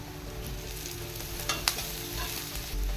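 Onions frying with spice masala in a pan for a mixed vegetable curry, a steady close sizzle with stirring scrapes and a couple of sharp clinks, no voices.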